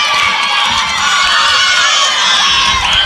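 Players of the St. Frederick softball team cheer and shout from the dugout during a quarterfinal game, a lively, continuous burst of young voices yelling together at moderate distance.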